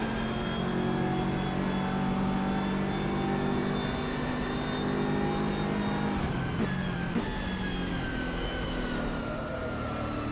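A GT3 race car engine in the rFactor 2 racing game roars continuously, its pitch gliding smoothly downward over several seconds, with a brief shift around the middle.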